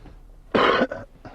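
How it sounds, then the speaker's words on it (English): A man gives a single short, close cough followed by a softer throat-clearing huff, inside a 2010 Holden Captiva CG MY10 SX. "excuse that little cough"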